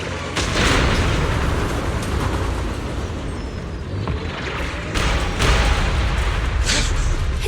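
Explosions in the video game Zenless Zone Zero: heavy, continuous rumbling booms with dense low-end roar and sharper bursts breaking through every second or two, loud and close, no talk.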